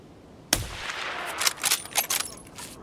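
Gunfire from a .338 AP rifle round in Escape From Tarkov: one sharp loud shot followed by a scattered burst of further cracks and impacts, some near and some more distant, with no talk.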